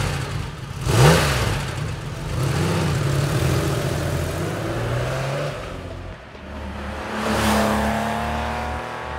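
A 1976 Porsche 911 G-model with its 2.7 litre engine revs hard close by, its note rising and falling in two loud surges with a steady rumble between them and no voices.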